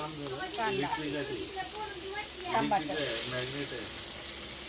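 Two onions and a tomato frying in hot oil for a Chilapi fish curry, a soft steady sizzle and hiss running throughout beneath someone talking, swelling briefly near the end.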